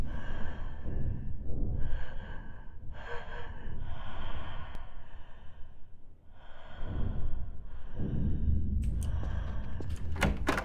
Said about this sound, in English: Who the fuck is breathing?